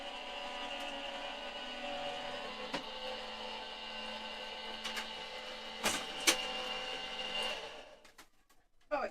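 A die cutting machine hums and whirs steadily as a die is fed through, with a few brief clicks along the way, before the motor stops near the end.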